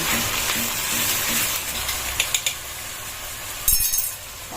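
Water and ginger, chilli and garlic paste sizzling in a frying pan, a loud broad hiss that holds steady, punctuated by a few light metallic clinks and a sharper clatter near the end.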